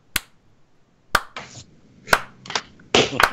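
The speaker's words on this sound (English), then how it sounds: "Can I perform a slow clap?" Four sharp, widely spaced claps in a slow, deliberate rhythm, with brief rustling between them and no talk.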